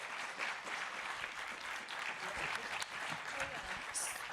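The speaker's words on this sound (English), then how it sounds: "Can we get a round of applause for our panelists" An audience claps for a panel of speakers after a talk on threats to pinyon-juniper woodlands, steady dense applause filling the room without a break and no talking over it.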